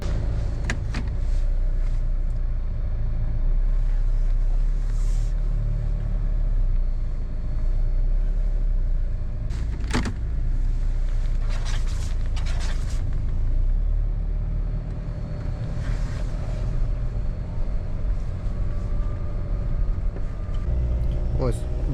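A large crossover with a faulty automatic gearbox drives along, its engine rumbling steadily and revving while shifts lag, with occasional clicks and thumps inside the cabin and voices speaking now and then.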